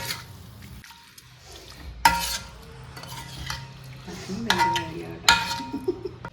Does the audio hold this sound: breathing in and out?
no